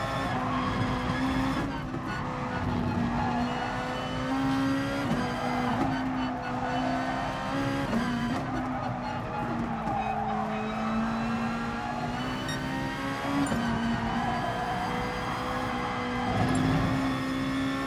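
A race car lapping a track in the video game GT Sport: a loud, sustained engine tone climbing and dropping with gear changes and braking, with occasional tyre squeal, steady throughout.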